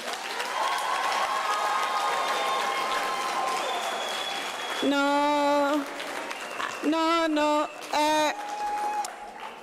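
Graduates at a university autumn graduation ceremony applaud their parents and loved ones, with crowd clapping and scattered cheers running under prominent tonal vocal sounds and a brief spoken word.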